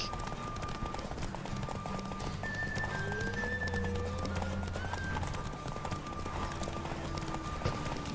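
Galloping horse hooves in The Witcher 3: Wild Hunt beat out a fast, even clip-clop throughout, with music and tonal sounds layered on top.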